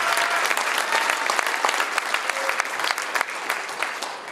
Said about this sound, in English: Let's give him a big round of applause for number 81 of Austin Charles.